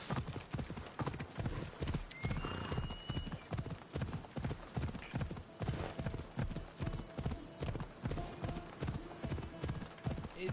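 A horse's hooves clip-clop in a steady walking rhythm in Assassin's Creed Odyssey, close and continuous over a faint ambient bed, with a brief whinny partway through.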